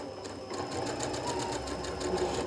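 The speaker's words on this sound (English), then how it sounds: "Go ahead and lower your presser foot, and let's stitch all the way to the edge." A sewing machine stitches fabric to the edge with the presser foot lowered, a soft steady rapid whirring with faint rhythmic ticking, running on alone at moderate volume.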